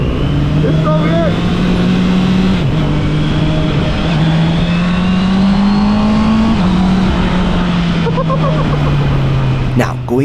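A Honda CB650R motorcycle fitted with an E-Clutch pulls away and accelerates, its engine note rising steadily and dipping briefly at shifts, loud and close throughout with a voice exclaiming over it.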